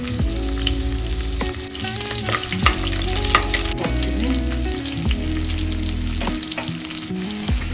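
Byadgi chillies and garlic fry in hot oil with cumin in a pan, a steady close sizzle broken by scraping stirs and clinks from a utensil, with no one talking.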